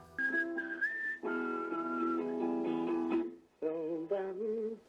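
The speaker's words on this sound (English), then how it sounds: "so he whistled the melody." A melody is whistled for a rough demo recording of a song, sung in clear sustained phrases with short pauses between them, heard alone without accompaniment.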